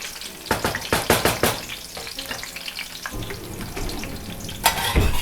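Vegan Colorado/New Mexico-style chile rellenos fry in hot oil, crackling and sizzling loudly up close, with a burst of sharp spattering pops early on and a steadier sizzle afterward, no voices.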